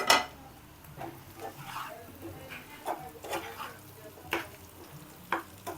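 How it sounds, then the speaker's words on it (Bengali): Fish pieces are tipped into hot oil in a pan and fry with a steady sizzle, broken by clattering stirring and scraping of the utensil close by. "এবার আমি জাস্ট এই মাছগুলো এটার মধ্যে ঢেলে দিয়ে"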